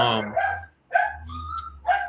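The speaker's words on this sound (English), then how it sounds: "Dogs are barking." Dogs bark in a backyard, several loud close yaps and bow-wows in quick bursts, with a voice briefly mixed in.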